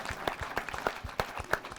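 A panel audience gives short applause, scattered individual claps coming at an uneven rhythm, fairly faint and distant for under two seconds.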